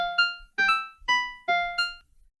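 A short piano melody played on a virtual piano in the TunePad web music tool, five clear bright notes rising and falling at a steady moderate pace, each ringing briefly before the next, with no voices.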